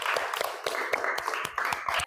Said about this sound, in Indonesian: Tepuk tangan buat kelompoknya Umi.